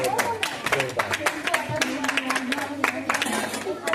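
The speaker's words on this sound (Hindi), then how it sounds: "एक बार तालियां हो जाए" Classmates in a gurukul classroom clap for a student's test score, with sharp, irregular hand claps close by as a teacher keeps talking over them.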